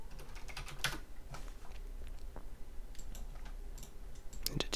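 Rapid clicking keystrokes on a computer keyboard, typing out a new name for a material, come in uneven bursts with brief pauses, close and fairly quiet, with no voices.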